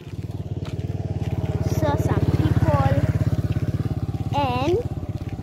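A motorbike engine putters steadily close by on a street with rapid, even pulses while people talk over it; tuk-tuks and cars are also around.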